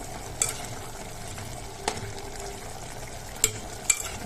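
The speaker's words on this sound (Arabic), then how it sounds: "نقلب بقى كويس كده مع بعضه" Beef tripe is stirred in a pot with cumin and salt, giving a steady, soft sizzle under a few sharp clinks of the spoon against the pot.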